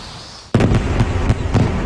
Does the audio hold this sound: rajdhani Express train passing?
no